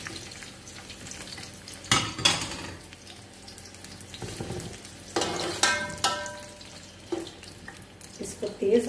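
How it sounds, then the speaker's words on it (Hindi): Onions fry in a pot for biryani with a steady low sizzle, broken by louder bursts of hissing and stirring scrapes as they are tossed in and moved around. The cooking sounds are up close. "अब इसमें हम डालेंगे प्याज"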